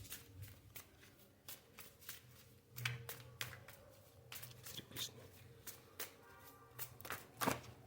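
A deck of tarot cards is shuffled by hand up close, giving a quiet run of repeated soft slaps and riffling flicks in an uneven rhythm.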